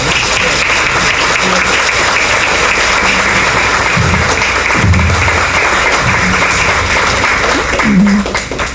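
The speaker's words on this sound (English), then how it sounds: "Let's give them a round of applause." A room of attendees at a high school essay award ceremony gives loud, continuous applause, with a few voices talking underneath the clapping throughout.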